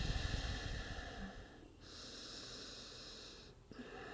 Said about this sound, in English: focus on our breath, inhaling and exhaling